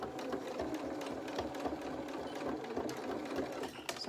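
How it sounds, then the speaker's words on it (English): A sewing machine stitches seams on small jeans, a fast, even mechanical rattle running steadily and close up, fairly quiet, with no talking. "take it to the sewing machine and just join up those two sections of stitching just to neaten that off"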